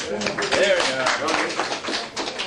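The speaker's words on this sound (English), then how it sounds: "A nice round of applause" Audience clapping fills a small community hall at a Bealtaine entertainment evening, a dense patter of hands rising and falling over about two seconds under a voice talking.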